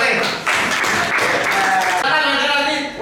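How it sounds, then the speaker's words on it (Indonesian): Audience applause in a room, a burst of clapping mixed with voices and cheering that thins out toward the end, with speech running over the top. "Oke, tepuk tangan untuk Mas Fatih."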